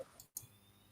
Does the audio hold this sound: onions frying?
no